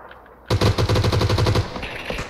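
Rapid automatic gunfire in a squad battle royale video game on a snowy map: a loud burst of about a dozen evenly spaced shots cuts in suddenly, then trails off into fainter echoes.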